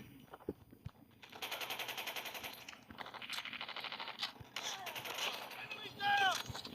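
Automatic weapons fire in the mobile shooter Call of Duty Mobile, heard as rapid close bursts with short pauses between them, plus a few metallic clinks and scattered single shots.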